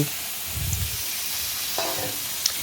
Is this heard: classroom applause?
no